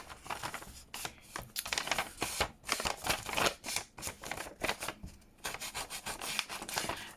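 An ink pad or applicator is rubbed and dabbed quickly and repeatedly across altered book pages for a junk journal spread. The scratchy strokes come close-up and quiet, in an uneven rhythm with brief pauses.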